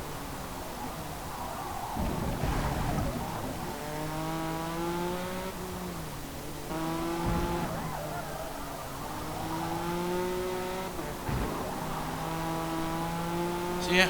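A race car on track in Forza Motorsport, its engine rising in repeated accelerating sweeps through the gears with brief shift breaks, loud and steady under a continuous bed of game sound.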